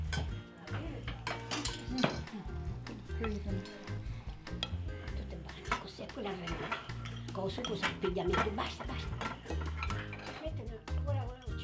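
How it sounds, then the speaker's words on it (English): Pasta and sauce mixed together in a bowl by two Sicilian grannies making pasta con le sarde: close clinks and scrapes of utensils against the bowl, irregular and busy, with voices talking alongside. "Pina and Rosa add the pasta and sauce to the bowl, mix it together"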